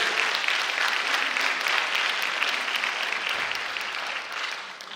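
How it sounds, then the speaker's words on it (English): Steady audience applause for a high school jazz band at a school ceremony, a full, even wash of many hands clapping that gradually tapers toward the end. "please give the Thornton Township High School Jazz Band a round of applause"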